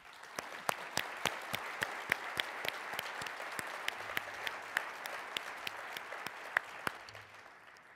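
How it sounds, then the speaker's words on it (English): Audience at a presidential symposium of a dental education association's annual session claps steadily for panel speakers, a dense, even patter of many hands with sharp individual claps standing out throughout. "They deserve a round of applause."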